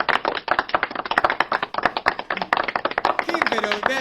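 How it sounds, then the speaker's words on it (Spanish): A person claps in the technical booth of a radio studio, giving sharp, rapid hand claps at an uneven pace close to the microphone while people talk over them. "Mate está en la técnica, aplaudiendo"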